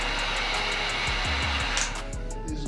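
A heat gun blows hot air onto a Glock 19 grip frame while a rubber grip sleeve is applied, a loud, steady rushing hiss throughout, with faint tapping and handling noises underneath.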